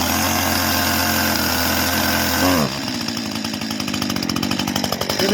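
Stihl two-stroke chainsaw with a freshly replaced chain, loud and close, running steadily before a brief rev that drops into a choppy, pulsing idle.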